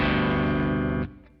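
Sustained distorted chord on a baritone guitar through a Kemper Profiler with Cirrus reverb, ringing loud and thick before cutting off sharply near the end, leaving a short reverb tail and a faint string noise.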